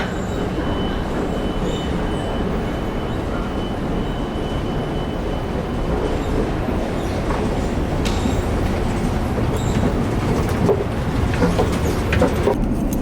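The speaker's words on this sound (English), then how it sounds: "I'm stuck here in traffic" Road traffic is heard from inside a car stuck in a jam: a steady, dense low rumble of engines and tires persists throughout, with no clear individual passes.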